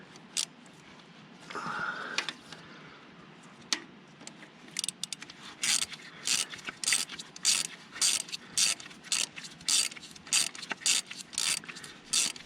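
A ratchet wrench clicks in a steady run of quick, close bursts while snugging bolts on a 420 crawler dozer, preceded by a few softer mechanical clunks and handling noises.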